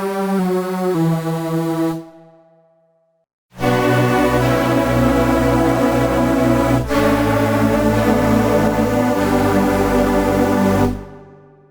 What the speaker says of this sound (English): What this does is it kind of forces aliasing in the sound and gives it a kind of digital distortion.